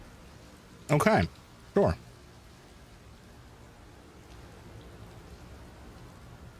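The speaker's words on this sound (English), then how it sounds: "It appears to be raining inside somehow." Rain falls indoors in the video game Outer Wilds as a steady, soft hiss throughout, while a person briefly speaks near the start.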